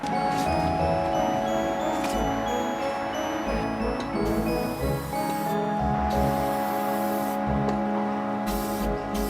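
A waterproof anti-corrosive coating sprayed onto a 1996 Integra during a side skirt install makes a steady, close, loud aerosol hiss that runs unbroken throughout, with faint ticking underneath and no talk.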